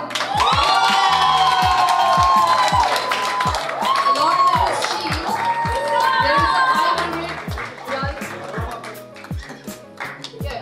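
Audience at an influencer award show erupts in loud cheering, whooping and shouting with scattered clapping as a winner's name is announced, the crowd noise swelling then easing while voices carry through.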